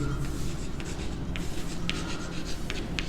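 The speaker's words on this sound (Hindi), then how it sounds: "तो मैं यहाँ पे लिखता हूँ" Marker or chalk scratching on a board while working a linear equations problem, a steady rubbing, scraping stroke with brief squeaky accents, close by, continuous for a few seconds with no talk.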